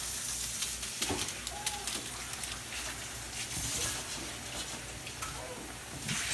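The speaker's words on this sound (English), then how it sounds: "Once I get that boiling, I'll throw in the" Water coming to a boil in a pot for instant ramen, a steady hissing bubble with occasional pops and light clinks, close and unaccompanied by talk.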